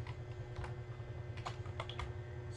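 Typing on a computer keyboard while entering commands in a Windows command prompt, a run of quick, close clicky keystrokes in small irregular bursts with no voice over them.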